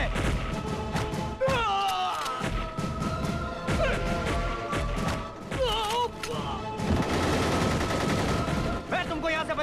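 Gunfire rattles in rapid bursts with crashes and thuds during a tense village confrontation, loud and dense over dramatic music, with voices shouting in between.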